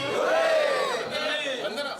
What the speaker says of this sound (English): 3 cheers, hip hip